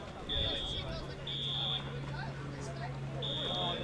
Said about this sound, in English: Apologies if you can hear the fire alarm going off behind us.